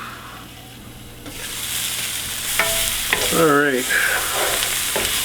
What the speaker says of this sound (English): They're going to be stewing for a while, cooking in the pot.